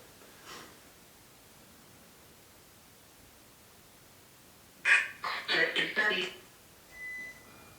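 An Echo Vox ghost box app plays in a room during a ghost hunt at East Mill House. A faint hiss runs throughout, then a loud cluster of choppy, broken voice-like fragments arrives near the end, followed by a brief tone.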